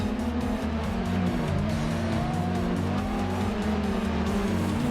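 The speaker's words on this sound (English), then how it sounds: "How about just taking the A86 for drift run, or a tandem drift with a friend?" A Toyota AE86 drifts with loud, sustained tire squeal over a strained, revving engine whose pitch rises and falls, heard close and continuously throughout.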